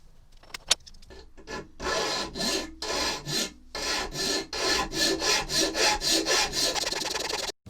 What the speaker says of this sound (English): we'll work now on getting the actual blade bevel, and I think that's probably a case of filing again